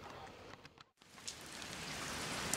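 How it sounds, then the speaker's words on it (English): Steady rain pours down outdoors, a dense continuous hiss of drops on surfaces with a brief dip before resuming, heard alone without talk. "That's a lot of rain, isn't it?"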